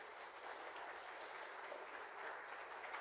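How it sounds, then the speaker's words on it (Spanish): A church congregation at a Mass for the feast of the Presentation claps together, a faint, even patter of hands sustained across the whole moment with no voices over it. "Damos un aplauso al niño Jesús que hoy es presentado en el templo."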